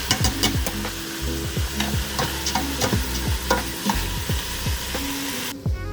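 Barley stirred into a pot of lamb shank soup, with steady scraping and stirring strokes over a loud, continuous sizzle, close by and with no talking.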